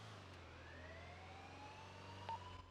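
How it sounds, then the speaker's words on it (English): Prison sirens in the GTA V video game wail faintly in the distance as a steady, slowly rising tone over a low hum, with no voices. "The prison sirens are on."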